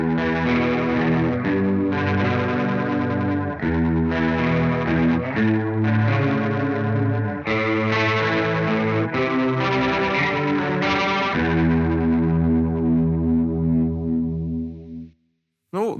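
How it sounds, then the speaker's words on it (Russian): Electric guitar through an Electro-Harmonix Pitch Fork polyphonic pitch shifter in Detune mode, mixed about halfway, giving a thick chorus-like shimmer to sustained chords played alone for several seconds before a sudden cutoff. "давайте послушаем, как это все звучит, и начнем мы с режима Detune"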